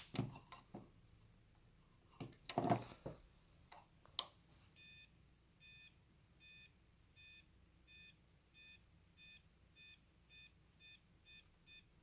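A gel/nerf flashing sound grenade's timer beeps in a steady, evenly spaced series of short, shrill electronic tones, preceded by a few clicks and handling knocks.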